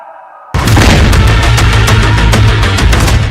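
A house belonging to terrorists is blown up by soldiers: after a quiet start, a sudden loud blast erupts into a sustained roaring rumble with crackling debris, close and overwhelming.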